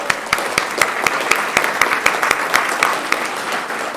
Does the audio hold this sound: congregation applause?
yes